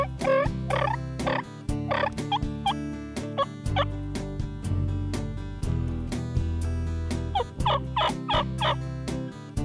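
Wild tom turkey gobbling repeatedly during a spring hunt, loud bursts in a rhythmic series over a steady background hum.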